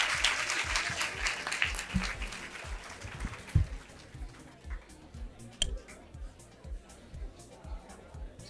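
A crowd claps loudly at first, then the applause thins out into scattered claps and murmuring chatter.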